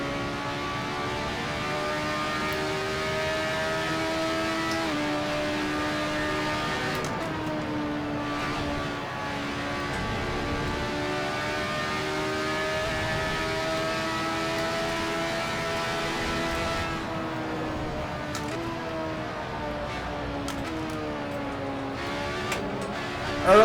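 Lotus 125 race car engine in Assetto Corsa at Silverstone, a steady high-pitched whine rising and falling through gear changes, loud and close throughout with no talking.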